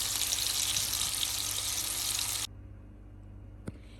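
Kebabs frying in hot oil give a dense, steady sizzle that cuts off abruptly partway, leaving a quiet background and a single faint clink.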